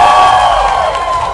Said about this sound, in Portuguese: Quem gostou da Ana Marcela de Greg, aplaude